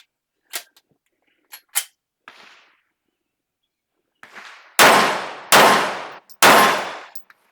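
Several sharp, loud shots ring out from a Canik TTI Combat pistol with a steel frame, a few lighter pops early on, then three powerful, evenly spaced blasts each followed by a short decaying ring.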